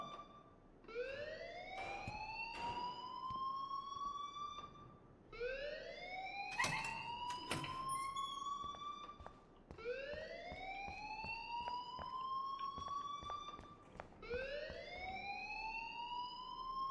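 A school fire alarm in the video game Life is Strange wails in four rising electronic sweeps, each climbing and then holding for about four seconds, repeating steadily and alone without talking.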